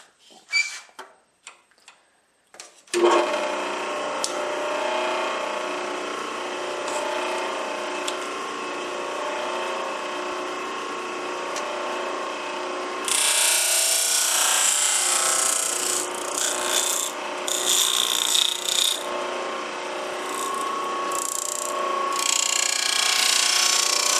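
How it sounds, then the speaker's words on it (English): A thickness sander levels and smooths the wooden sides of a custom mandolin during a build, giving a steady, loud abrasive whir after a few quiet clicks. The grinding grows brighter and harsher partway through as the wood feeds under the drum. "I'm going to use the thickness sander here to sand these sides smooth"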